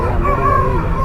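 A rooster crows at an Ongole Sunday country chicken market, a single short, loud, close call standing out over the background hum.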